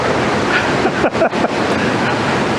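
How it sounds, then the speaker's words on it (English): Wading up a cold mountain creek below a waterfall on a Colorado Jeep trip, a steady broadband rush of flowing water and splashing fills the whole stretch, with a couple of brief dips as the wader moves. "To get up to the waterfall, we got to wade up the creek here, the river, and it's freezing!"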